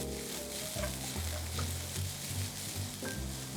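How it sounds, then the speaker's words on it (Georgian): Onions sizzle in olive oil in a hot pan, a steady crackling fry with faint stirring and scraping, close and alone with no talk. "ზეითუნის ზეთს ვიყენებთ, რომ მოვთუშოთ პირველ რიგში ხახვი"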